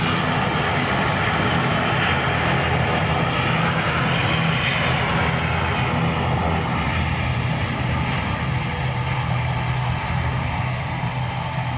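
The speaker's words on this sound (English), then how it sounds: "Ryanair from Rome" Steady broadband roar of a Ryanair airliner inbound from Rome arriving at Dublin Airport, loud and continuous throughout with no gaps or talk.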